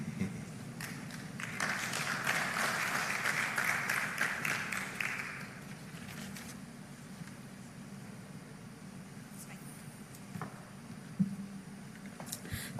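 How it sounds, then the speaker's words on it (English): Clapping from a conference audience at a retail congress, a burst of hand claps that builds and fades after several seconds, fairly distant, followed by quiet room tone with faint stray noises. "he deserves another round of applause"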